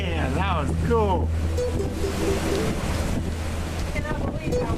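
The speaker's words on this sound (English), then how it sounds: "It's so windy." Strong wind from a lightning storm in New Mexico rumbles steadily across the microphone, a continuous close buffeting roar with people talking over it.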